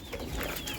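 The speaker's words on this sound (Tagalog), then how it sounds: "Mga ibon ni Sir Romel." Pet pigeons, some frilled and crowned, coo softly and continuously close by over a faint background hum, with no talking.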